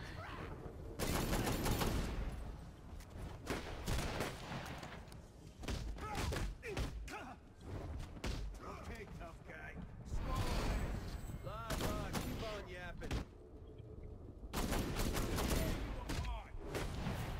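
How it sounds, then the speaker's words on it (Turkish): Gunfire in Batman: Arkham Knight during the Red Hood story pack, bursts of loud shots and thuds recurring through the stretch, mixed with game sound and a voice talking over much of it. "Adamı silahla vuruyorum adam ölmüyor."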